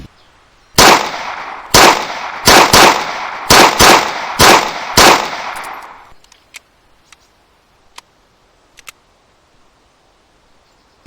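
Seven sharp, loud pistol shots from a Luger LP08 in the Arma 3 IFA3 WarMod game fire in an irregular sequence. Faint clicks and clinks follow in otherwise quiet surroundings.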